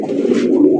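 Maxi Racer fancy pigeons cooing at a pigeon sale, a single close, loud, low throaty coo rolling out alone.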